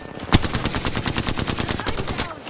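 Rapid automatic gunfire in the shooter game HP Origins, a dense, loud burst of fast repeated shots with a sharper crack near the start, continuing without pause throughout.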